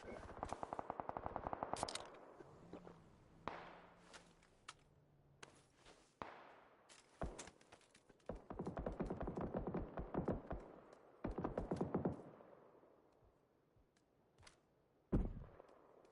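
Gunfire in PUBG, with rapid automatic bursts and single shots that crack in clusters. Some are near and loud, others distant, broken by short quiet gaps and scattered impacts.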